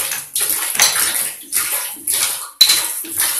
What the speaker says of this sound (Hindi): पूरा टैंक जो है हमारा गीजर का वो खाली हो रहा है